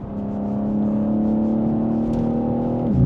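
A BMW M3 Touring engine hums steadily while driving, its tone rising slightly and holding, then dropping at the end, moderately loud and close.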